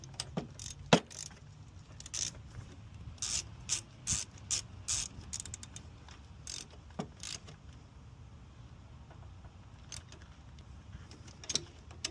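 A hand ratchet clicks in short bursts while working valve cover bolts on a 2004 Infiniti G35 with the VQ35DE engine, crisp close ratcheting spurts separated by quiet gaps, with no talk.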